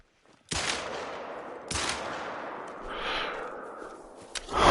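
A hunting rifle fires at an animal in theHunter: Call of the Wild, two sharp close shots about a second apart, each trailing into a long rolling echo across open terrain.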